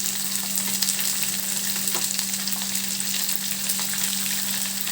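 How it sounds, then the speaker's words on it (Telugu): Ivy gourd and onions frying in a pan, a steady close sizzle with faint stirring scrapes throughout, no voices. "చూడండి, బాగా ఫ్రై అవుతుంది."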